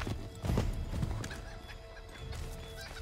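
Horse hooves clip-clop in the video game Assassin's Creed III, a few quick close thuds as a horse slows, with a brief whinny near the start, then quieter ambient game sound.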